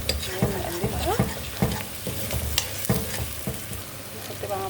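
Seasoned minced meat sizzles loudly in a pan while being stirred, with repeated scraping strokes of the spoon against the pan over a steady frying hiss, close up.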